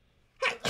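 A single person sneezes close by, a quick two-part burst after a quiet moment.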